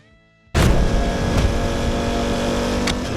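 A Norton 1200cc V4 motorcycle engine bursts into a loud, sustained rev after half a second of near silence, holding a rough, powerful roar up close to the end.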